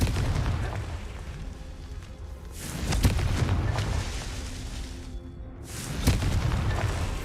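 Deep booming blasts from the Confringo fire spell in the Hogwarts Legacy video game go off twice, each a sharp, loud detonation rolling out over a steady rumbling backdrop.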